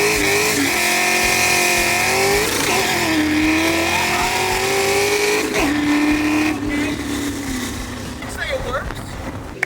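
A hot rod with a freshly rebuilt transmission, fresh input shaft and old 380 gears cruises with a loud engine drone close by. Its pitch climbs and shifts through gear changes while a person talks over it.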